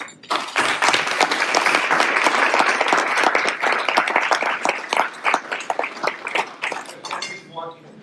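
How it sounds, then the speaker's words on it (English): Loud applause from an audience at an Armenian Bar Association awards gala luncheon, dense steady clapping sustained for several seconds before thinning into scattered claps, with faint clinks of dishes and cutlery mixed in. "I want to ask you to give a round of applause for fellow 20 under 40 committee member Alan Harushunyan."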